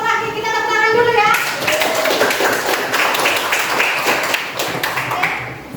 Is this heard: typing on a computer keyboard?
no